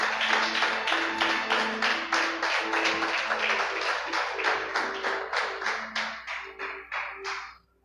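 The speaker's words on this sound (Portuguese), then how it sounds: "Então aplauda Jesus mais uma vez." A church congregation claps together in a steady, rhythmic applause, loud and close, tapering off at the end.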